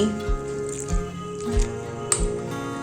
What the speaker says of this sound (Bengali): গুলে নিচ্ছি। একটা ব্যাটার বানিয়ে নেব।